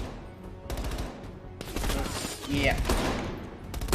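Automatic gunfire in Call of Duty: Black Ops Cold War on Realism difficulty: rapid, loud bursts with scattered single shots ringing out, and a man's brief word of speech partway through.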